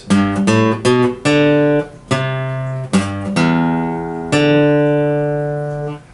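A plucked guitar plays chords mixed with melody notes, strummed attacks ringing out in an uneven rhythm, ending on a long sustained chord.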